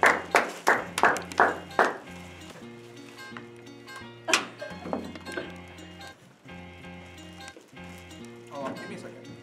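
A group of audience members claps in a quick, even rhythm of sharp, close claps for a few seconds at a live Christmas show, then the claps thin out as talking and music carry on.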